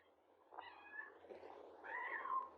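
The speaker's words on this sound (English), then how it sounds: "Do you hear my cat?" A pet cat meows twice indoors, a short call followed by a longer, rising and falling meow, fairly close and clear with no talk over it.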